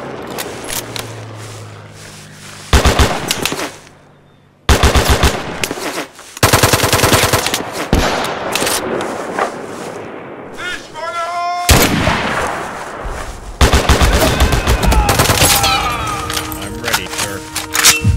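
Machine gun and artillery fire in the D-Day battle game Mud and Blood, loud bursts of rapid automatic fire broken by brief pauses, with booming shots and whistling shells in between.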